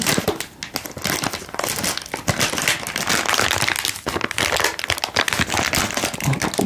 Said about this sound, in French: couper le saucisson